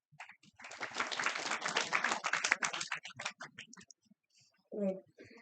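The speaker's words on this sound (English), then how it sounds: "I want you to clap" Students in an induction session clap, starting as a ragged cluster of claps that thins into scattered single claps. A voice speaks briefly near the end.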